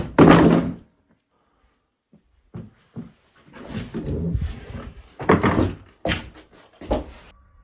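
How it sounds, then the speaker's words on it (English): A door in an abandoned building falls and crashes to the ground with a loud heavy thud, followed after a pause by scattered knocks, rattles and thumps as it settles nearby. "That door fell down again."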